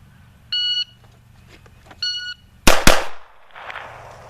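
Two pistol shots fired in quick succession after a draw from a concealed-carry shoulder holster, sharp and loud, coming after two electronic shot-timer beeps and fading into a brief echo.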